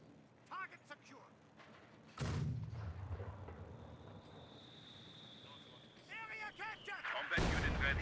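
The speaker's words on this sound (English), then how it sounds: "Good hit there from the mortar." Mortar fire in the World War II strategy game Company of Heroes 2: two loud, heavy booming blasts, one early and one near the end, with rumbling between them and someone commentating over much of it.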